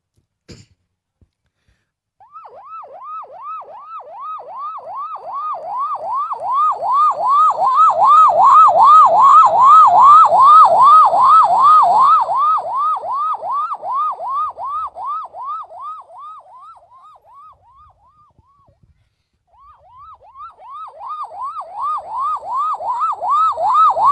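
A voice mimics a police vehicle siren, producing a long run of rapid rising-and-falling wails that swell loud, fade away, then return after a short pause.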